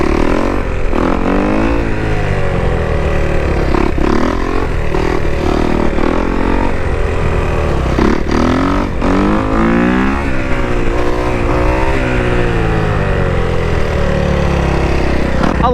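A motorcycle engine, being tried on different ECU maps, revs hard during repeated wheelies. Loud, close throttle bursts rise and fall in pitch, with steady engine drone between them and no talking.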